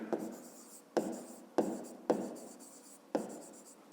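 A pen writes an equation by hand on paper, with about six rhythmic strokes, each beginning with a sharp tap and trailing into scratchy rubbing, close and quiet, no voices.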